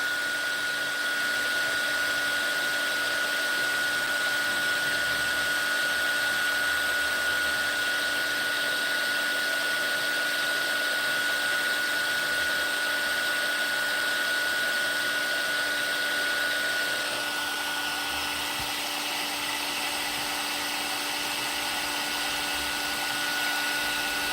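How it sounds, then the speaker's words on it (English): A heat embossing tool used for paper butterfly crafts blows hot air in a loud, steady, close whir that runs without a break. Its tone shifts slightly partway through. "let me get my heat tool out. I know it's noisy."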